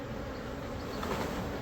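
A swarm of roughly 20,000 bees being removed from a tree, a low continuous buzzing hum, faint and steady throughout with no voices.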